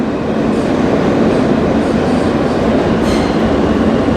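New York subway train running underground, a loud steady rumble of wheels on track with faint clicks and a brief squeal, continuous from start to finish.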